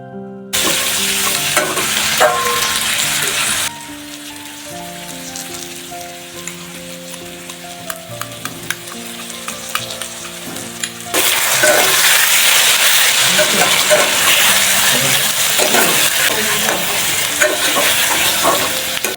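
Ginger, cumin and green chilli paste with salt and turmeric frying in a pan for a fish curry, with steady loud sizzling and repeated scraping stirs, a quieter stretch in the middle, then a renewed burst of hissing.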